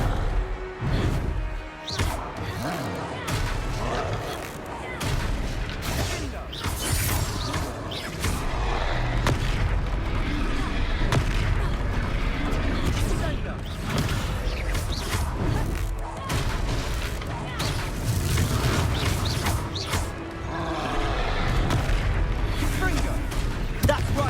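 Confringo fire spells explode repeatedly during combat in Hogwarts Legacy, a series of booming blasts and crashes over a busy battle soundscape, with character voices speaking throughout.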